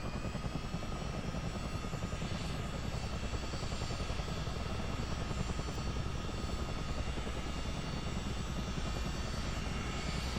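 Both engines of a CH-47 Chinook helicopter run up during start, a loud, steady turbine roar with dense rotor chop filling the whole stretch without letup.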